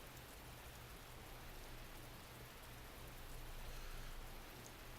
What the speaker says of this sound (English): the relentless rain piercing through the tree canopy was slowly sapping their endurance as well